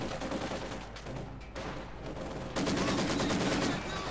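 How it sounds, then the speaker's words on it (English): Dense machine gun fire in the Company of Heroes 2 strategy game, rapid continuous bursts from multiple guns, loud and close, swelling heavier near the end. "getting caught between two machine guns"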